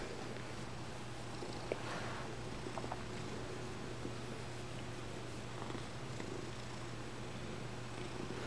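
A cat purrs steadily and softly close by, a continuous low rumble running through the whole stretch with faint rustling and no talking.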